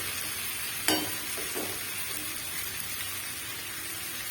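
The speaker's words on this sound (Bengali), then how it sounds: "এবার আমি বড়িটাকে একটু ভালো করে লাল লাল করে ভেজে নিচ্ছি" Bori lentil dumplings frying in oil in a pan for shukto, a constant close sizzle with a sharp clack near the start and a couple of faint scrapes.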